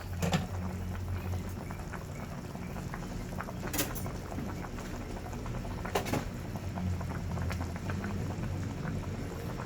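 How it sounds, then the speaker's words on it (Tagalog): A pot of sinigang with bangus (milkfish) simmers at a rolling boil, a steady low bubbling and popping with a few sharper clicks, close and quiet with no talking. "kumukulo ng ating isda"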